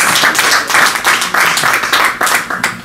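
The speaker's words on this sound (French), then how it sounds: "Applaudissons l'artiste." An audience at a press conference for Congolese music star Koffi Olomide claps loudly in a rhythmic, pulsing pattern of repeated bursts.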